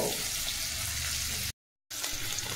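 Onions fry in a pan in a home kitchen, a steady close sizzle that stops abruptly for a moment and then resumes.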